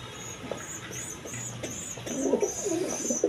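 Soft, low cooing from Jacobin pigeons comes in repeated murmuring phrases, growing a little busier toward the end, close by with faint background hiss and no talking.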